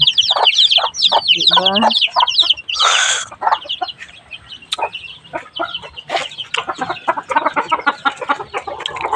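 Chickens cluck and chirp busily close by, with a rooster-like call in the mix and a brief word spoken over the flock.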